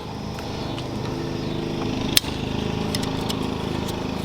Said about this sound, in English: Sounds like my neighbor's having some lawnmower troubles over there.